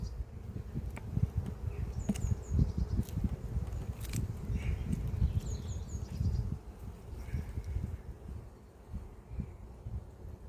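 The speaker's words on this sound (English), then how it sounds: "Lovely calm bees." Calm honeybees buzz steadily in a low, dense hum while frames are lifted during a spring hive inspection at a UK apiary, with faint scattered clicks and taps over the drone.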